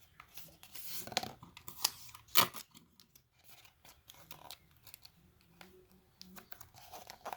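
Paper tape is pulled, torn and pressed onto a folded paper craft weapon, giving a few sharp ripping bursts followed by soft crinkling and rubbing handling noises, close and fairly quiet.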